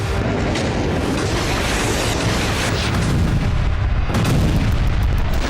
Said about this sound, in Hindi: यूक्रेन पर विस्फोट।